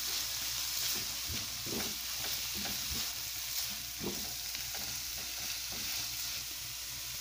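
Green pepper and carrots stir-frying for lumpia filling, a soft steady sizzle from the pan with occasional scrapes and clinks of the spatula as the vegetables are tossed, no voices.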